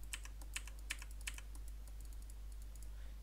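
A computer keyboard key pressed during League of Legends play gives a few faint, sharp clicks in the first second and a half, then fades to quiet room hiss.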